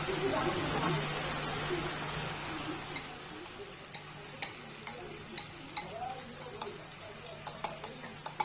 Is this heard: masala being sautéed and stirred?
yes